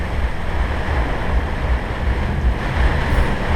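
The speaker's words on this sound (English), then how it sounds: "the wind's blowing even harder" Strong wind blowing hard at a Caribbean anchorage off Grenada, a loud, continuous roar with gusting buffets against the microphone, mixed with the wash of surf and choppy water around an anchored sailboat.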